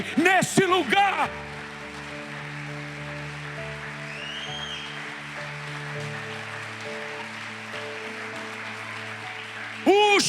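A church congregation at an evangelism conference applauds in a steady, broad wash of clapping that sits beneath a preacher's amplified voice, which speaks at the start and again at the end.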